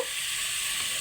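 Vegetables with turmeric, cumin and salt are stirred in a hot frying pan, giving a steady, close hiss of oil and light scraping through the whole short stretch, with no voices.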